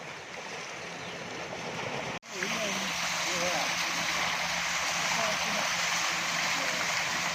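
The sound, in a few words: two tubewells running, pumping water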